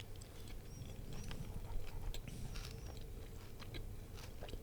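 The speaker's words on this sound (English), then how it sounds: "One big, loud chew." Close-up, loud open-mouthed chewing of food, with crunchy wet bites and mashing repeating steadily and densely throughout, no talking.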